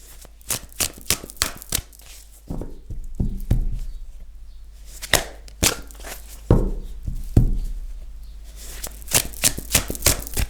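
Tarot cards are handled and shuffled close by in repeated bursts of crisp riffling and slapping, with short pauses between the flurries and no talking.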